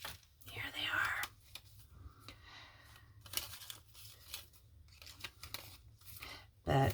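A small pair of scissors is picked up and handled at a papercraft table, giving light clinks and rustles amid paper crinkles, while a voice whispers and talks over the handling.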